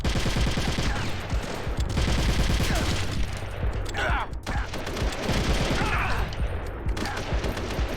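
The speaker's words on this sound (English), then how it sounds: "Where am I getting shot? Who's shooting me?" Sustained gunfire aimed at the player in Metal Gear Solid: The Twin Snakes, a dense run of rapid automatic shots and bursts going on for the whole stretch, loud and close with mechanical clatter mixed in.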